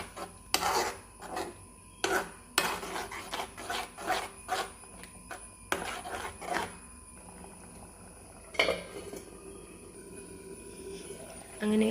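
Tomato paste and water are stirred into a cauliflower masala gravy in a pot, with repeated scraping, rubbing strokes and occasional clanks of a spoon against metal, fairly close, then a quieter stretch.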